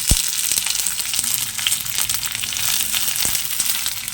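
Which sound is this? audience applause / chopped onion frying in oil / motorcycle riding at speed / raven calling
chopped onion frying in oil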